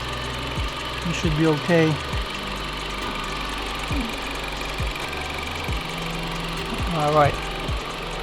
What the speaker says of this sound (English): I'm just gonna keep idling it